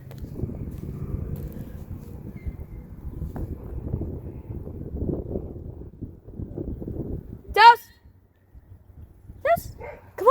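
A dog gives a few short, sharp yips and barks, the first standing out loudly after a stretch of low, muffled rumbling, then a couple more follow closer to the end.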